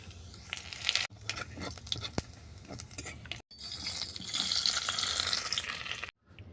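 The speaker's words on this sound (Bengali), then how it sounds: "এরপর মাছের তেলেতে জিরে লঙ্কাটাকে আমি ভেজে নেব" Cumin and chili frying in leftover fish oil in a pan, a steady close sizzle with brief breaks and scraping stirs, no voices.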